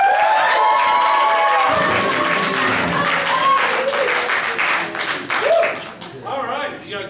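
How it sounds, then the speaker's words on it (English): An audience at a ComedySportz improv comedy show cheers, yells and claps loudly for the team captains, a dense sustained crowd roar with shouting voices that eases slightly near the end. "I want you to cheer and yell and scream and go nuts"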